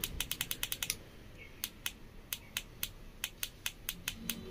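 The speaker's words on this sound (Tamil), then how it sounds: "பட் கேமரா மாதிரி ஒரு சவுண்ட் நாய்ஸ் கீழே வருது, நம்ம சேஞ்ச் பண்ணும்போது டிக் அப்படின்னு." Kaiweets KM601 digital multimeter giving a rapid series of sharp, close clicks as its selector dial is switched between modes, irregularly spaced with short pauses, alone with no talk.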